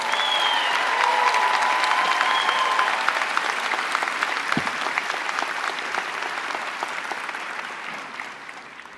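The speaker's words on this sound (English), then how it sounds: "I think your families and friends and loved ones deserve a round of applause" A commencement audience at the University of Maryland, Baltimore applauds families and friends in a sustained round of clapping that swells and then slowly fades toward the end.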